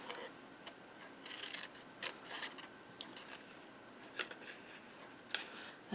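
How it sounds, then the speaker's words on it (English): Scissors snip through card along a crease line, a few quiet, separate cuts with pauses between them, heard close up and faint. "I'm going to cut this crease line off here"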